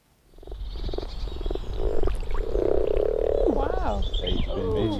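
Several mating frogs croak in a pond, a series of pulsing, rattling calls building into a sustained chorus, loud and close, with birdsong chirping over the top toward the end.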